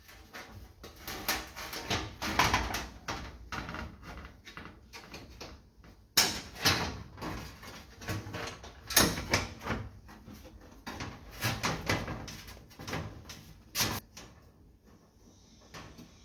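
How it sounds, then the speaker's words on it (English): Plastic door card panel for a BMW E30 being worked into the door, a run of close, irregular knocks, scrapes and sliding thumps with a few louder bumps, no talking. "slip it through the door card, and then slide the door card into the door"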